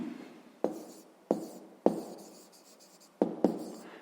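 Pen writing out a fifth-grade math solution on paper, close and fairly quiet, with five sharp taps at the starts of strokes, each followed by soft scratching.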